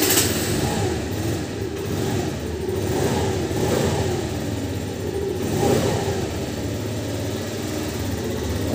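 Car engine with its accelerator pump disconnected, revving up and settling back in several broad swells, a steady mid-pitched drone close to the microphone.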